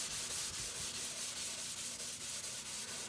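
Steel wool rubs back and forth over a True Oil finish on a guitar, a soft, steady scratchy hiss with faint regular strokes, close but quiet and with no talking.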